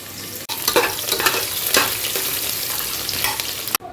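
Onions fry in a pan with a bright, crackling sizzle while a utensil stirs them in bursts. There are short scraping swishes, then near the end the sound cuts off abruptly to near silence.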